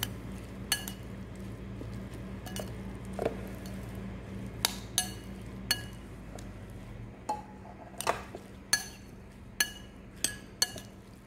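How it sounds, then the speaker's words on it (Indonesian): Sambal matah with kecombrang, freshly doused in hot oil, being stirred and pressed in a bowl: a dozen or so sharp clinks and taps of utensil on dish, spaced at an uneven rhythm over a low steady hum, no talk. "kemudian aduk sambil ditekan-tekan sampai semua tercampur merata"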